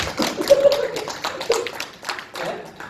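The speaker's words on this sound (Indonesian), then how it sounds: "Tepuk tangan dong biar nggak ngantuk" An audience at a company presentation claps hands in loose, scattered bursts at moderate loudness, a few claps standing out, with some faint voices underneath.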